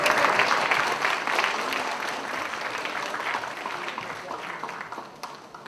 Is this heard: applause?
yes